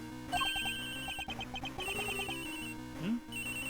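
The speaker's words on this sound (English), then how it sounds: "That's a cell phone." Electronic cell phone ringtone in the Ace Attorney video game, a repeating melodic tone pattern chiming over game background music with a brief synth swoop near the end.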